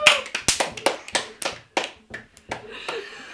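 A small group claps in a loose burst of separate hand claps for the winner of a home quiz game, close and uneven, thinning out after a few seconds.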